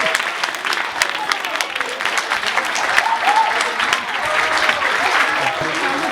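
Sustained audience applause after a school orchestra's gala performance in the Basque Country, a dense, steady wash of many hands clapping at close range for several seconds with no break.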